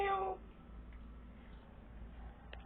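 A kitten meows once at the very start, a short, bright harmonic cry that falls away into quiet indoor room tone.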